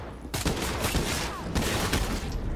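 Rapid gunfire in the video game State of Decay 2, a dense burst of repeated loud shots filling the whole clip, close and continuous.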